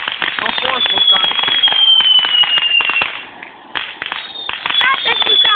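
A vulcan firework fountain crackling and spraying sparks outdoors, a dense continuous stream of pops and fizz with a brief dip midway, while people talk over it.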